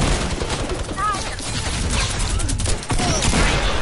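Rapid automatic turret fire in a multiplayer video game, a dense loud burst of shots continuing steadily throughout, with a voice speaking over the gunfire.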